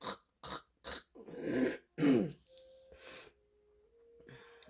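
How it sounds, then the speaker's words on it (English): Several short, harsh coughs in quick succession, followed by two deeper throat-clearing rasps, close and loud with no talk. "Got me choking, coughing, scratchy throat."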